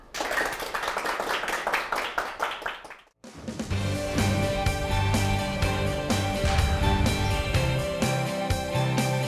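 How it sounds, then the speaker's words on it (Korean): An audience at a Korean lecture show claps to welcome a social-contribution speaker, starting as steady rhythmic hand claps, then after a short pause swelling into fuller applause under background music. "강연을 박수로 청해 보겠습니다"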